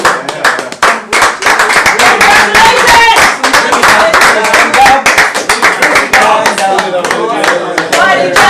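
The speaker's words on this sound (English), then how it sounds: "Please, a round of applause for Master Enoch Owolabi." Loud, sustained clapping from a crowd applauding the winner of a Scrabble championship final, with cheers and voices mixed in throughout.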